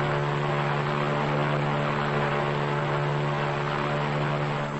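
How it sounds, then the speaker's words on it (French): An aircraft waits on the runway for takeoff, a steady loud engine drone with a constant low hum and no break. "L'appareil situé sur la piste numéro 3 est prié d'attendre le décollage."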